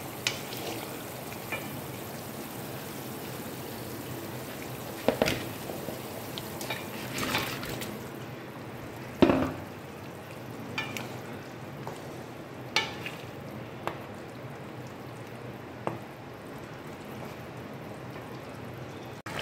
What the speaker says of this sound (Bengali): জলটা ফুটে গেছে, এরপর আমি মাছগুলো দিয়ে দেবো।